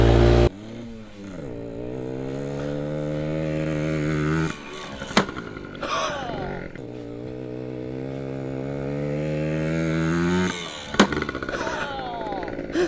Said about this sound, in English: So we're just gonna be driving around this little track into the ramp.